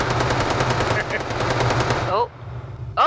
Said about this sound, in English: Rev's shooting everybody.